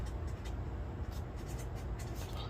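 A pen scratches a quick question mark onto a note stuck to a Batman #125 comic with a foil cover, faint short strokes over a quiet room hum.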